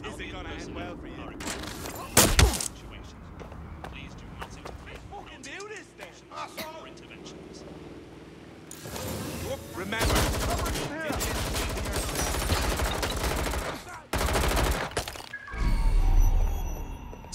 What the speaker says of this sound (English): That's it. I'm shooting you.